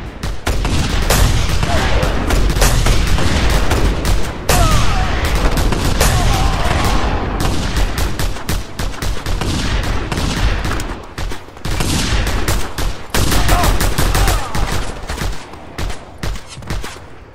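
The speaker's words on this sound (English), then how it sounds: "Okay, stop shooting me." Gunfire in the video game Just Cause 2, with loud, dense volleys of rapid shots and bursts that come in clusters, broken by short pauses and booms.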